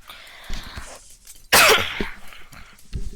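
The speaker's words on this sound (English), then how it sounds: "that was just me coughing." One sharp, loud cough bursts out close to the microphone, set between quieter, softer sounds.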